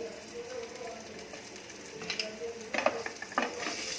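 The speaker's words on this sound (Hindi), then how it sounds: "अब इन सबको 1-2 मिनट तक भूनेंगे।" Onion, ginger, garlic and green chili frying in a pan for a South Indian onion tomato chutney, with a soft steady sizzle and occasional stirring scrapes and clinks of a spoon against the pan, close and moderately quiet.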